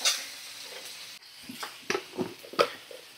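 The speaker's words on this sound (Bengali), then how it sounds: "ভালো করে নাড়াচাড়া করে নিচ্ছি।" Chopped tomato and eggplant sizzle at medium flame in a pan, with several distinct stirring scrapes and clacks over a soft frying hiss.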